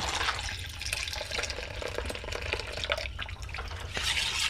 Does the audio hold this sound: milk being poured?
yes